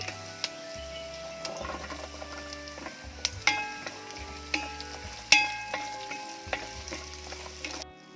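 Big onions and small shallots sauté in a pan for beef liver fry, a steady close sizzle under repeated sharp clicks and scrapes of a spoon stirring, with no talk.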